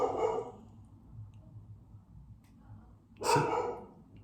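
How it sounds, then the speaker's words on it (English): A dog barks twice indoors at a middle distance, one bark at the start and another near the end, separated by a quiet room hum. "we'll wait for the dog to stop barking"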